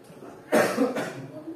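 A man coughs once, a single close, harsh double-pulsed cough over a quiet room.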